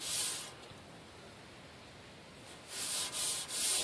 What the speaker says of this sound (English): put some acetone on your Scotch-Brite and clean the bottom section of your tank